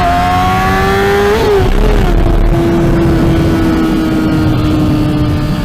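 Honda CBR 600RR motorcycle fitted with a Toast aftermarket exhaust, riding at speed: a loud, steady engine drone that rises briefly as it revs, then settles into a constant cruising tone with wind noise.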